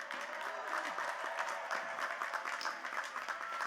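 A crowd at a Tulane University commencement ceremony claps warmly and continuously, a dense moderate applause with faint murmuring underneath throughout.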